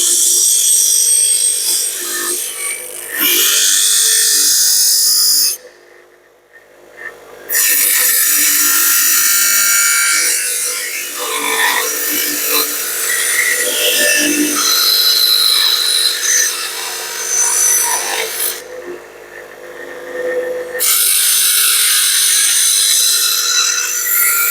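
A power tool grinds and cuts through a metal part on a hot rod build, a harsh, bright continuous shriek broken by two brief pauses, loud and close, with no talking.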